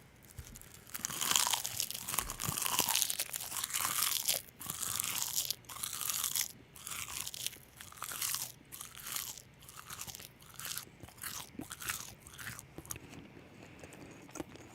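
Close, crisp crunching of seaweed snacks being chewed in an eating session, a steady run of dry crackling bites that thins into separate chews and slows toward the end.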